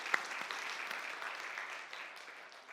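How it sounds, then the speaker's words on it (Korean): A church congregation breaks into applause during a Korean sermon, a soft, even patter of many hands clapping at a distance for a few seconds. "박수 한번 합시다."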